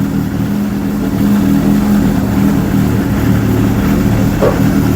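A restored 1981 Suzuki GSX 750 motorcycle engine runs loud and close with a steady, even drone that holds without obvious revving, and no one speaks.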